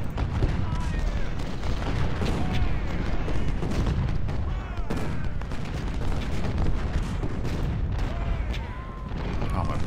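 Artillery fire in the Civil War strategy game Ultimate General: Civil War, heavy booming cannon shots and crackling volleys rolling continuously, dense and loud, with a player speaking over the barrage.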